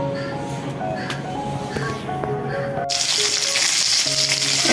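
Rui fish frying in a home kitchen pan, a dense hissing sizzle that swells louder partway through, with small clinks and scrapes of utensils near the microphone and no talking.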